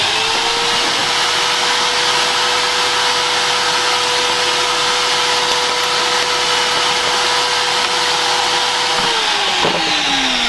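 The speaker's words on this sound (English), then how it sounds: "I'll vacuum it up." Vacuum cleaner sucking up debris at a mini lathe, a loud steady roaring whine held throughout, its pitch dropping slightly near the end as the airflow changes.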